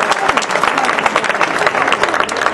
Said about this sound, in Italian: Vi prego di fare un applauso calorosissimo per Stefano.